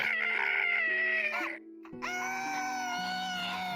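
A person's voice imitates a rooster's cock-a-doodle-doo crow during a tabletop roleplay session, heard as two strained, screechy wails with a brief gap between, loud and close with no other talk.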